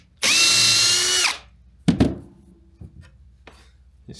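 A power drill drives leftover screws into a rustic log workbench, a single loud high whine lasting about a second, followed by knocks and handling clatter.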